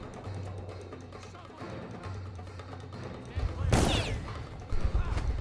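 Gunfire aimed at the player in the video game Dishonored: a sharp, loud burst of shots and impacts near the end, after quieter game sounds and a speaking voice.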